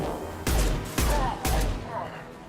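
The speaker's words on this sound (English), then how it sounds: "Firing concussive shot!" A concussive shot fires in Mass Effect, three loud, evenly spaced booming blasts about half a second apart, each trailing off quickly amid the noise of combat.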